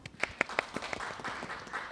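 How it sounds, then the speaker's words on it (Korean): Quiet applause from a conference audience welcoming a speaker to the stage, a few distinct claps at first that blur into a soft, steady patter, heard at a distance. "박수 부탁드리겠습니다"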